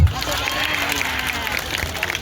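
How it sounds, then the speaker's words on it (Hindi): Crowd of striking hospital workers applauding at a protest gathering, a dense continuous patter of many hands clapping close by for a couple of seconds. "तू ताली क्यों नहीं मार रहे थे?"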